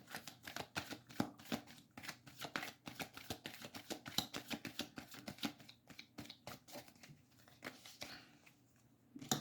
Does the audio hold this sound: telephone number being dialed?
no